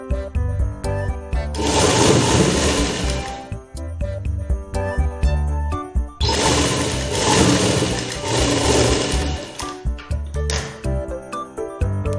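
Sewing machine stitching a frock gown, two long loud bursts of rapid mechanical whirring separated by quieter pauses with small clicks and handling noises.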